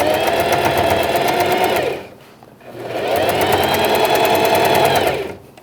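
A sewing machine stitches a fine topstitch on a pet bandana, running loud and close in two steady bursts of rapid mechanical whirring separated by a short pause.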